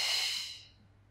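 A single long exhale during a beginner Pilates full-body workout, a close, breathy rush of air that fades away over about a second, heard alone with no talk.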